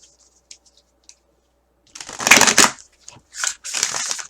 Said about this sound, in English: I just cut the deck.